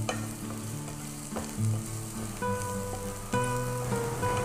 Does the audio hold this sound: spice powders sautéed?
yes